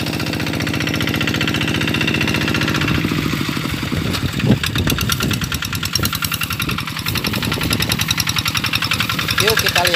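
A farm tractor runs in a field with a steady low, knocking diesel rumble throughout, its pulsing growing slightly rougher partway through, loud and close with no voices.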